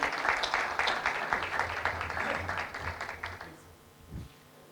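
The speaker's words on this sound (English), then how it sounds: "We can hear for them a round of applause," Conference audience applauding, a dense burst of clapping that fades out over several seconds, followed by a brief low thump.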